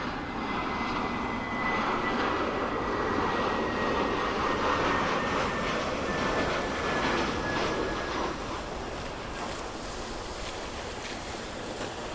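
A passing EasyJet airliner's jet engines roar at Venice Marco Polo Airport, a steady loud broadband rumble and whine that holds throughout with a faint rising tone, with no voices.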